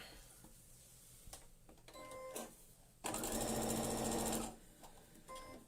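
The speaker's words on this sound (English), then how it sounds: "So we're going to sew those ones all together now." A sewing machine stitches quilt block pieces together, starting with a few short stuttering bursts before one sustained, rapid mechanical run of about a second and a half, then a final brief spurt, close and quiet.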